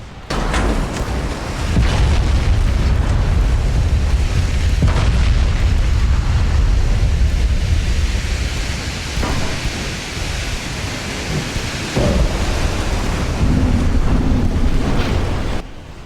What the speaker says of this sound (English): Torpedo detonations, and she's lost her engines.